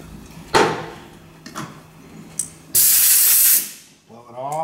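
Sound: spraying brake cleaner on bolt threads

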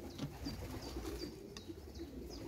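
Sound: young pigeons cooing

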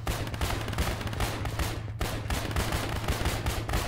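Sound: gunfire in the video game ARMA

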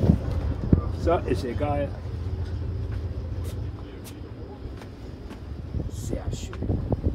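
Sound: wind at a beach

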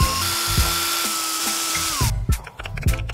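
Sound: drilling holes with a battery drill

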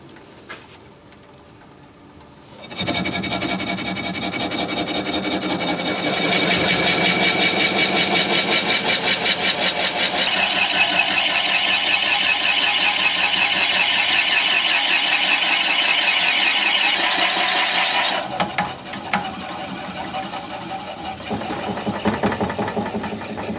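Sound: drilling into a wooden vase on a lathe

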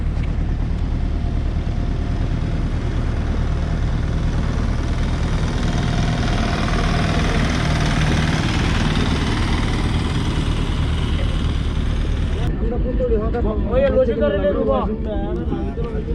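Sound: engine of a local boat on the lake

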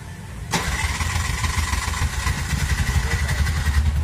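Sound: Bajaj BS6 auto rickshaw engine starting

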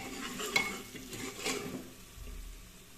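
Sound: stirring turmeric powder into pan

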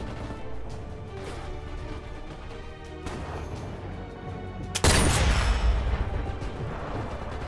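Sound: sniper rifle shots in Sniper Elite VR video game

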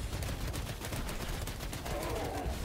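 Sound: rapid gunfire from a character in the video game Wuthering Waves

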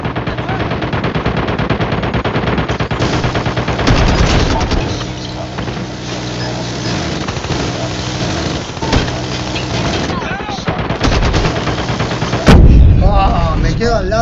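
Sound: gunfire in a video game clan match

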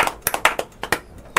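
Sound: people clapping

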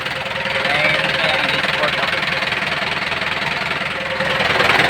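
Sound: Isuzu 4BC2 diesel engine running

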